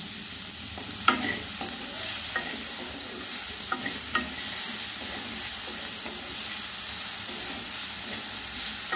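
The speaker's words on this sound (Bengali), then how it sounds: "আর 2-1 মিনিট ভেজে নেব।" Semolina veg burger mixture frying in a pan, a loud continuous sizzle and hiss with occasional scraping and tapping as it is stirred, close and steady throughout.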